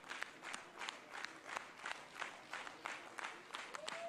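Faint, distant applause from a control room at the Guiana Space Center after the maiden Ariane 6 launch, with scattered claps, murmured voices and a brief tone near the end.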